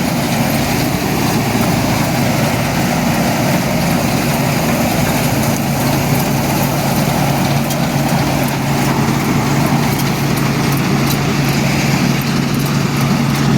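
A John Deere 2264 combine harvester threshing barley, its engine droning loudly and steadily, with a constant low hum and mechanical rattle that never lets up.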